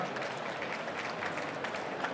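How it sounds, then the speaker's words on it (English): An audience at a VivaTech 2025 healthcare conference session gives a round of applause, an even, moderately loud wash of clapping from the crowd that carries on for a couple of seconds. "I think we can give you a great round of applause"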